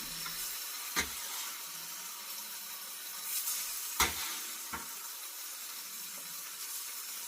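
Flounder pieces fry in a hot pan with a steady bright sizzle, broken by a few sharp pops and crackles as the fish hits the oil.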